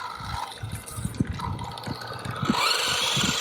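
A cheap Costco Formula 1 RC car runs at full throttle, its small motor whirring and buzzing unevenly with bumps and rattles as it drives over rough ground, moderately close, with no speech.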